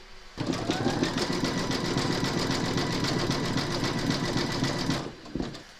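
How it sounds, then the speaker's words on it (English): A home embroidery machine sews satin stitches that join the segments of an in-the-hoop notebook cover, giving a steady, loud, rapid mechanical whir for about five seconds before it stops abruptly. "Load your thread colour for the satin stitching of the joins into your machine, and then stitch round number 6"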